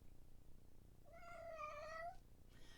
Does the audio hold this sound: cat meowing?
yes